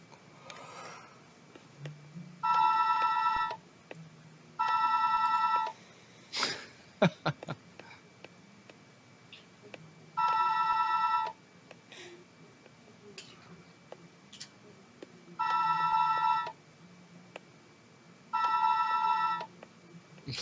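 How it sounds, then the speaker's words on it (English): Repeated phone-like electronic ringing from a video game, five separate ring bursts with gaps between them, with clicks and faint talk in the quieter spaces. "Sounds like a phone."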